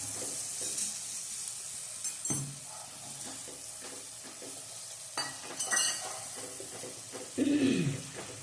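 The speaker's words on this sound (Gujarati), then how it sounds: "હવે આપણે આને થોડું હલાવી લેશું" Coriander-cumin powder and turmeric being stirred into a pan while cooking bhungla bateta, giving soft scraping and sizzling with a few louder stir strokes near the middle and end.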